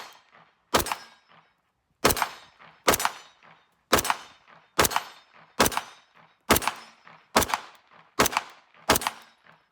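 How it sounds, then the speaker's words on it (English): DVC Carry pistol shots ring out at a shooting range, nine sharp loud reports fired one at a time at an even pace, each followed by a short ringing decay. "Let's just do some shooting and appreciate these pistols"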